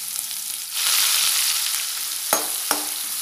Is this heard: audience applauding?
no